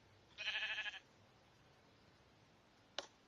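A sheep bleats once in the Minecraft video game, a short, clear, fairly quiet call followed by silence and a single faint click.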